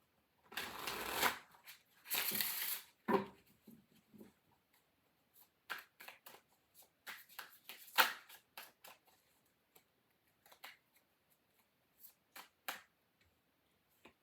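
A Revelations Tarot deck being shuffled and cards drawn: two quick riffling bursts at the start, then soft intermittent card snaps, slides and taps, close and quiet, with no voices.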